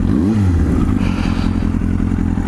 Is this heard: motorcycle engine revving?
yes